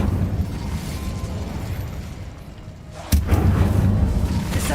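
The Incendio fire spell is cast in Hogwarts Legacy, a sharp burst that erupts over steady game ambience, followed by a dense, rumbling crackle of flame.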